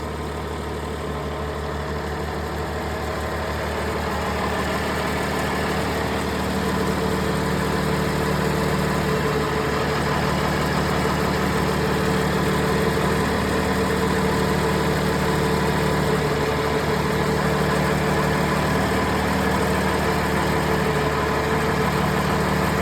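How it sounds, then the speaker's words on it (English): A Cummins ISL9 diesel engine idles steadily and close by during a cylinder cutout test, a continuous loud rumble with a deep low hum and slight shifts in tone as individual cylinders are cut out, with no talking. "You can hear the pitch of the engine change depending on what cylinder you're cutting out."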